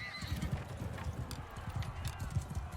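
Horses' hooves clopping in a medieval tournament in Mount & Blade II: Bannerlord, a steady rapid drumming of hoofbeats under ambient game noise, with a faint whinny, moderately close.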